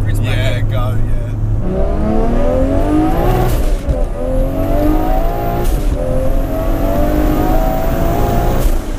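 An 844 bhp turbocharged Toyota Supra accelerates hard at full throttle, its loud engine note rising steadily through the revs in a race setting, with people talking over it.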